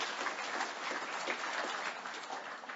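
An audience at a Flat Earth conference in Canada claps steadily in a dense, even round of applause that tapers slightly toward the end.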